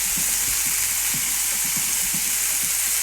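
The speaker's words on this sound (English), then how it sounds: "I'm going to cook this bacon until it's crispy" Bacon frying in a pan, a steady loud sizzle with faint repeated stirring or scraping taps underneath, no talk.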